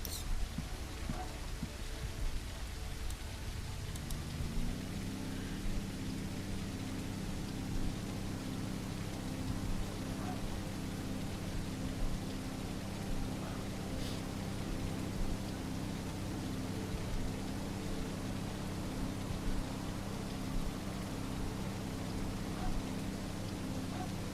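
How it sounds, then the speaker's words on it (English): A nighttime storm in Everwind, a sky-island block-building game, with steady rain hiss and a low droning rumble that settles in after a few seconds and continues evenly, fairly quiet throughout. "At night, full storm."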